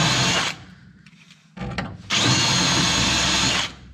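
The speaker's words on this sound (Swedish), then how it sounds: "sen kan man ju borra upp det lite så." A power drill bores a hole in the sheet-metal floor of a Volvo PV 544 during restoration, two loud whining bursts of drilling separated by a short pause with brief clatter, close and alone.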